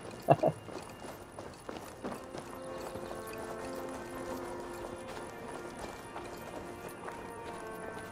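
Horse hooves clop at a steady walking pace in the video game Assassin's Creed Valhalla, fairly quiet, over a soft sustained musical background.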